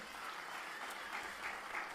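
An audience at a motivational speech applauds with steady, dense clapping from many hands, heard alone without talk.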